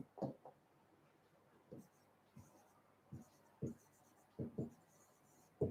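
Chalk or marker writing on a board in a classroom lecture, faint short taps and strokes at irregular intervals, fairly quiet, with no talk over them.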